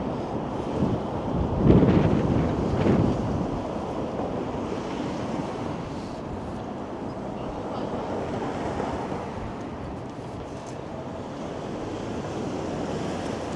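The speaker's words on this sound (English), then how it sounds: "Right, the wind has let up a little bit." Strong wind buffeting the microphone on an outdoor city walk in Toronto near the Bloor Yorkville skyline, a continuous rough roar with a louder gust early, no talking.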